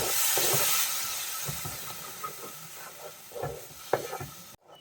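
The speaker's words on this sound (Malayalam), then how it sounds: "അരപ്പ് ചേർത്തിട്ട് നന്നായിട്ടൊന്ന് മിക്സ് ചെയ്തെടുക്കാം" Masala paste for chicken masala is stirred in a pan, with soft sizzling under a series of irregular scraping and thudding spoon strokes at close range.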